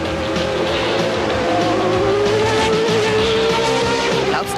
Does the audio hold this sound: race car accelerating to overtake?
yes